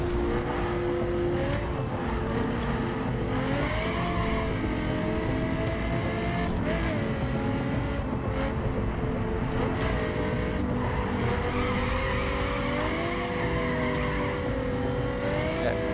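Car racing in the video game The Crew, with a constant loud engine roar and repeated high, wavering tire squeals as the car brakes and slides through corners, no voices.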